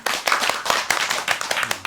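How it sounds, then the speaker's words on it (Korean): A church congregation claps at a Bible study gathering, a short burst of loud, fairly rhythmic hand claps close by with no talking over it. "박수 한번 합시다."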